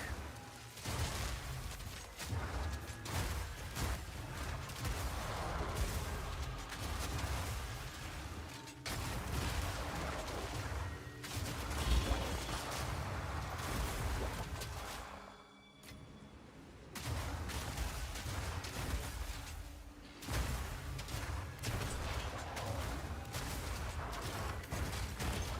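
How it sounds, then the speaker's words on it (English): Armor explosion effects from the Path of Exile action game, rapid crackling bursts of gunfire-like pops layered into a dense barrage, steady and moderately loud with brief pauses between waves of combat. "I can hear armor explosion going off"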